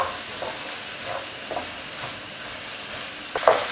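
Spinach chicken masala sautéing in a pan over high heat, a steady soft sizzle with light stirring scrapes recurring every half second or so and a sharper clatter near the end.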